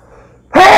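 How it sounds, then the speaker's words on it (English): A single abrupt, loud sneeze bursting out after a moment of near silence, close to the microphone. "I got a sneeze coming"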